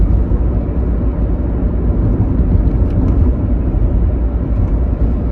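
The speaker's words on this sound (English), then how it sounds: "I still hear a lot of road noise, but it's definitely not that droning noise" Steady, loud low-frequency road noise rumbles inside a moving Honda CR-V with worn tires, a continuous droning roar with no talking.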